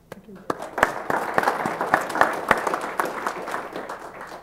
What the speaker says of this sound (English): No more applause.